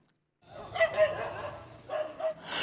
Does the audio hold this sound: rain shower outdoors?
no